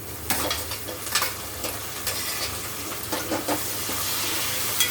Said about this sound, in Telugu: టమాటాలు కూడా బాగా ఫ్రై అవ్వాలి.